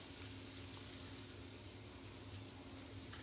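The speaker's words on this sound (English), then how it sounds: "I'm going to put about 2 good tablespoons of butter in my skillet to start cooking these onions" Onions cook in about two tablespoons of butter in a skillet, giving a soft, continuous sizzle with a faint low hum beneath, quiet and unbroken, with no voices.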